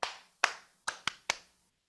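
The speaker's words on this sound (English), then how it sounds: "there's a ton of people just by instinct reached out to do that clapping too" Five sharp hand claps in an uneven call-and-response rhythm, loud and close, with a brief pause after the second clap and a quicker pair near the end, heard alone without voices.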